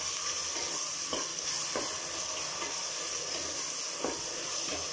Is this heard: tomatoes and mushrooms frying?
yes